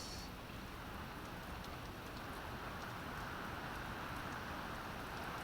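Steady rain falls outside a stadium before a Green Bay Packers vs. Minnesota Vikings game, a dense, even hiss of drops that stays constant and fairly quiet throughout, with no voices over it.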